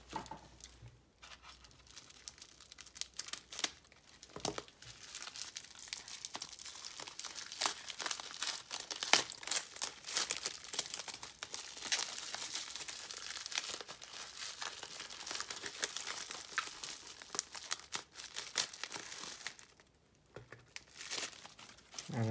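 Small packaged gifts of paper lanterns being unwrapped, with close, continuous paper crinkling and tearing in irregular bursts over about twenty seconds and no talk.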